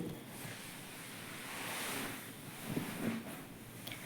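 Pantua (gulab jamun) balls of wheat-flour dough frying in hot oil give a soft, continuous sizzling hiss, fairly faint and steady, with a couple of small pops and no voices.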